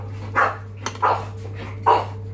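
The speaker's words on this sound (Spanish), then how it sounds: "Ya están los perritos peleando." Dogs fighting indoors, with three sharp, close barks spaced about half a second apart over a low steady electrical hum.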